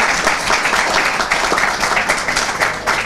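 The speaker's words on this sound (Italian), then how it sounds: "Un applauso a questi signori" Loud, sustained applause from a crowd, many people clapping together in a thick continuous roar without breaks.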